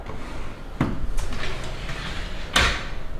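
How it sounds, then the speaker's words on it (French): Drawer of a 1960s teak furniture piece with a red velvet lining sliding open or shut, two sharp knocks with a scraping glide between them, close and moderately loud. "Tiroir de velours rouge."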